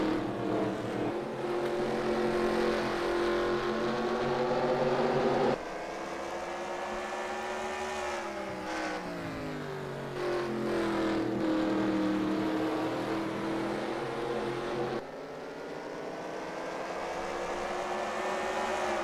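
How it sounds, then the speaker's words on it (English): Race cars in a Grand National Series event at Pine Grove sweep past on the track, a loud continuous engine drone with shifting pitch as cars pass, cutting abruptly between passes with no talk. "Here comes the 2 car, Bronson Minnick."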